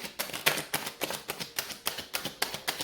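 Tarot cards are shuffled in a quick, even run of crisp riffling flicks, close up and alone, with no voice over them.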